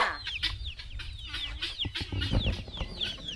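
Several chickens cluck and chatter continuously nearby, with short rising calls overlapping in a busy farmyard chorus.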